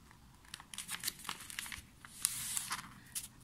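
A sheet of paper is folded lengthwise into sections, close crinkling and creasing rustles in short uneven bursts, fairly quiet, with no voices.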